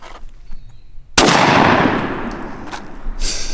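A shotgun fires once while turkey hunting, a sudden loud blast with a sharp onset followed by a long decaying roar over an outdoor background, after a quiet lead-in.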